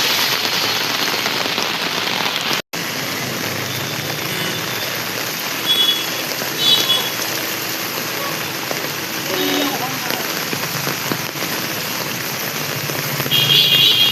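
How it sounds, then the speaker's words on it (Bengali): Heavy evening downpour drums steadily on surfaces in a dense, continuous roar, with a low engine rumble from passing traffic beneath it. "মারাত্মক বৃষ্টি।"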